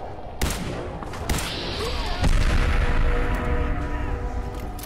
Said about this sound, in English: No, stop shooting at me, damn it.